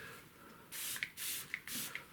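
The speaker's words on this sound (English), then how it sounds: "what I've got is a spray bottle." A handheld spray bottle mists water onto an acrylic painting in three quick, close bursts, each a short hiss with a soft click at the end.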